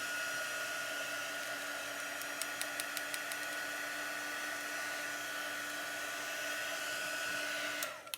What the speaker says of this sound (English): The dry tool is great because you could get pretty close to your transfer without shrinking it like a shrinky dink